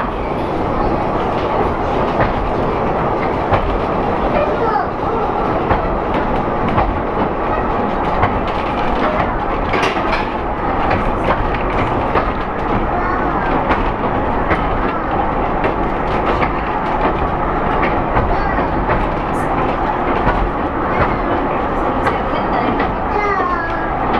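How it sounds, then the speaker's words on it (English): A narrow gauge train runs along Hythe Pier Railway, heard from on board: a loud, steady rumble with continuous wheel clatter and no talking. "just on board this narrow gauge railway here at Hythe Pier"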